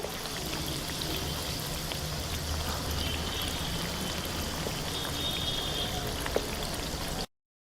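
Namak pare, crisp wheat-flour snacks, frying over a low flame in oil in a kadhai, a dense steady bubbling crackle that runs without pause and then cuts off abruptly.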